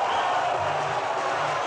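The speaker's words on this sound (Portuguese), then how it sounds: "vocês estão vaiando a vocês mesmos" Concert audience booing in a sustained, steady roar of many voices, a dense broad wash of crowd noise with no pauses.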